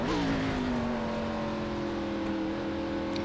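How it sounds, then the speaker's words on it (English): Race car engine in the iRacing sim at Daytona Road Course, droning loud and close with a rev blip at the start as pitch drops on the downshift, then holding a steady whine. "You can hear the blip on the downshift to try and match the engine revs to prevent the back end locking up."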